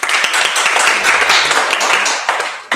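Loud, dense audience applause at a candidates' question time event, a steady wash of many clapping hands lasting nearly three seconds before cutting off.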